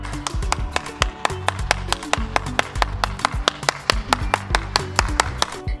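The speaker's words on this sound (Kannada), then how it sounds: "ಥ್ಯಾಂಕ್ಸ್ ಆಯಿತಾ ಕ್ಲ್ಯಾಪ್ ಮಾಡಿದ್ದಕ್ಕೆ" Several people clap hands in a fast, even rhythm of sharp nearby smacks that continues steadily throughout, with no talking.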